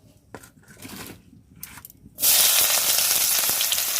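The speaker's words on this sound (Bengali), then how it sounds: "দেখো তেলটা আমার গরম হয়ে গেছে, এবারে পেঁয়াজটা দিয়ে দেবো।" Onion dropped into hot oil in a pan, after a couple of quiet moments, erupts into a sudden loud, continuous sizzle that stays steady and bright to the end.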